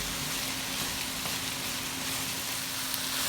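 Garlic sautéing in a pan for collard and cauliflower dirty rice, a soft, even hissing sizzle that holds steady and fairly quiet without stirring strokes or talking.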